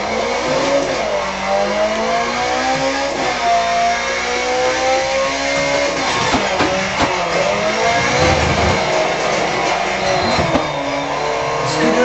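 A Ferrari 430 Scuderia, the lightweight F430, revs hard, its engine note climbing and dropping through repeated sweeps, loud and close with no voices.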